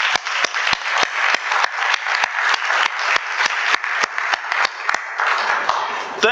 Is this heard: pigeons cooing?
no